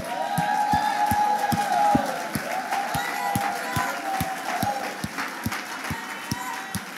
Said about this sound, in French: Levons-nous tous ensemble. Pouvons applaudir le Seigneur.